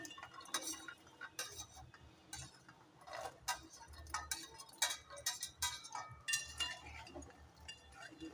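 Fried shakarpara are stirred into hot sugar syrup in a pot, giving irregular metallic clinks and scrapes of a utensil against the vessel, fairly close and moderately loud.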